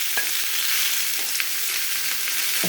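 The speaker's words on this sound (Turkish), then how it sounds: "1 kilo kuşbaşı kesilmiş dana etini ilave ediyoruz." One kilo of cubed beef fries on a hot, oiled saç pan, giving a steady, dense sizzle that runs without a break, with faint stirring clicks now and then and no voices.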